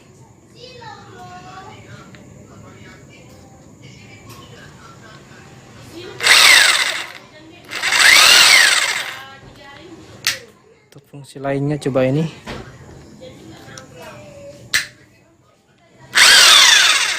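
A Mailtank rotary hammer drill runs in several loud, sustained bursts of whining motor noise, each lasting a second or two with pauses between, while someone talks nearby and children's voices come through in the background.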